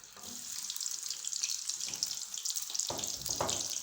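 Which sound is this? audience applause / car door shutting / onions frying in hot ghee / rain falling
onions frying in hot ghee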